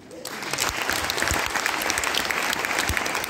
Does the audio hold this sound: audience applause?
yes